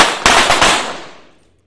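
Shots fired with a pistol in a 25m pistol shooting match form a quick, close cluster of sharp cracks that fade into a reverberant tail. There is no speech.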